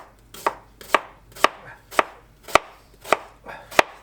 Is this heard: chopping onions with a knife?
yes